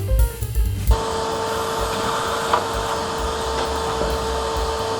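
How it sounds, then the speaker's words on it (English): A vacuum cleaner switches on after a few clattering knocks and runs at a steady, loud whine while tidying around a salvaged Petrof piano, with no talk. "I'm gonna get the vacuum over here"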